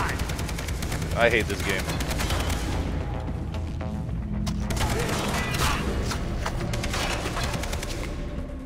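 Gunfire in Far Cry 3, dense fast bursts of automatic shots close and loud, with pauses and further volleys, while someone talks briefly over the shooting.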